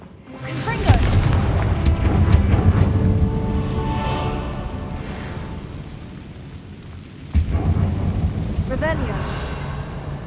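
A Confringo spell blast erupts in the Hogwarts Legacy video game, a loud booming explosion with a long rumbling tail, followed by a second heavy blast later on, with spoken game dialogue around it.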